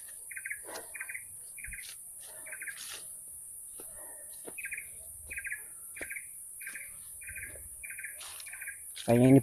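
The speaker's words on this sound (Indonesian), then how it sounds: "suara burung-burung" Birds sing in repeated short chirping phrases across a quiet forest at the foot of Mount Penanggungan, with a steady high insect drone underneath and a brief louder noise at the end.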